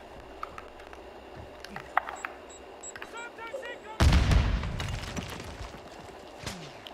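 A sudden loud sniper shot cracks out amid distant gunfire in the Call of Duty Modern Warfare II video game, followed by a decaying echo and a later fainter shot.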